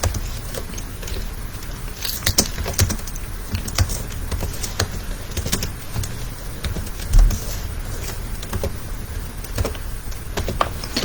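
A JavaScript program is typed on a computer keyboard, with a fairly constant patter of key clicks over a noisy, hissing background.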